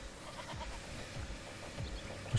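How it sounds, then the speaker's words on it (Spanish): A goat bleats in the video game Die Young, with a faint, short call set in a quiet outdoor ambience with a low steady hum. "Eso, vale, es una cabra."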